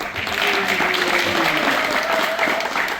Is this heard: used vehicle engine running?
no